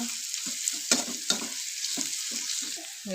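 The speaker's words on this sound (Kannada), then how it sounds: "ಈರುಳ್ಳಿನ ಹಾಕಿ ಚೆನ್ನಾಗಿ ಫ್ರೈ ಮಾಡ್ಕೊಳ್ಳೋಣ" Onions fry in oil with cumin and mustard seeds, a constant bright sizzle with rhythmic stirring scrapes roughly every third of a second, close and fairly loud.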